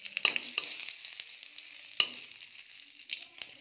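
Cumin, cloves and cardamom sizzle in a spoonful of hot desi ghee for a tempering, a soft steady crackle with a few sharp pops and stirring scrapes.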